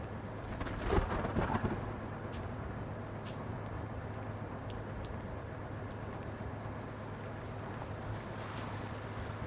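Deep thunder rumbles through a lightning storm in the Blacksad video game, with steady rain and a low, continuous hum beneath; a louder roll swells near the start before settling into a constant stormy wash.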